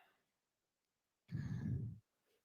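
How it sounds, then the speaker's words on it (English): Slow, steady breath during a vinyasa power yoga session, heard as a single long exhale lasting roughly a second, fairly close and soft, with quiet pauses before and after. "Breath sounds good. Keep it slow and steady."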